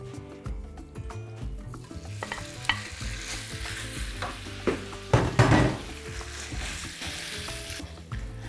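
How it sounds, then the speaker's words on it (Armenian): Pork tenderloin pieces sizzle in a hot pan as they brown, with repeated scraping and clacking of stirring and a louder burst of frying midway, close by and with no talk. "Մսակտորները այնքան ենք տապակում, որպեսզի բոլոր կողմերից կարմրեն։"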